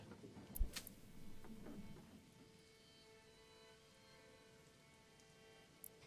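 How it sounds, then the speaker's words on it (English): Rain falling in the medieval city-building game Manor Lords, a steady soft patter with a few louder ticks at the start that settles into a quiet, even wash. "God, it's raining a lot, isn't it?"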